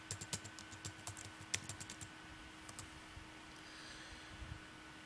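Keystrokes on a computer keyboard as a single word is typed, a quick burst of sharp clicks followed by a few scattered taps, close and clear over a faint steady hum.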